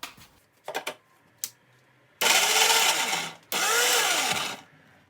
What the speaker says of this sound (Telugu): 2 గార్లిక్ క్లోవ్స్, కొంచెం సాల్ట్, దీన్ని కచ్చాపచ్చాగా మనం గ్రైండ్ చేసేసుకుందాం